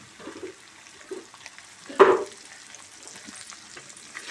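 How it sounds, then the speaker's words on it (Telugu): Tempering spices frying in a pan for a fish fry chutney, mostly a quiet low crackle with a brief louder sizzling burst partway through. "ఇది కొంచెం వేగిన తర్వాత స్టవ్ ఆఫ్ చేసుకోవాలి"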